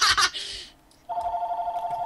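A telephone in a room rings with a steady electronic tone that starts abruptly after a brief burst of noise and a pause, then carries on unbroken, fairly close and clear.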